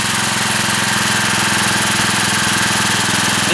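A generator engine running on wood stove smoke drones steadily and loudly, with a rapid, even mechanical pulse and no variation in level throughout.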